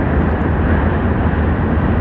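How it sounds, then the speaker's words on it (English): An old subway train crosses a bridge, heard as a steady, loud low rumble and roar with no distinct clacks or breaks. "the old subway going across the bridge."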